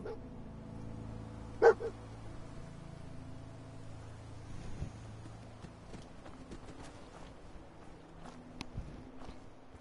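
The companion dog Dogmeat in the video game Fallout 4 gives one short, sharp bark early on, followed by quiet game ambience and soft footstep-like taps.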